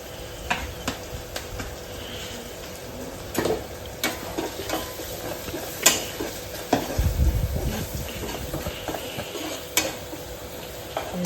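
Mutton masala frying in a pan, a soft steady sizzle broken by scattered scraping stir strokes and clinks of the spoon against the pan, close and clear.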